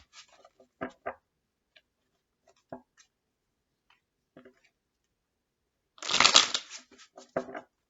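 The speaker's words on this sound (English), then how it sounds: "Okay, hand shuffling." Playing cards riffled and shuffled by hand, a few soft scattered flicks followed by one dense burst of rapid fluttering card noise near the end, close and fairly quiet with no voice.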